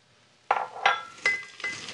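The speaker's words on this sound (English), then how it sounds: "So, Jennifer, you can just pour that right into the blender" Four quick clinks and knocks a few tenths of a second apart as hot cranberry glaze is poured into a blender jar in a kitchen, close and moderately loud with no talk.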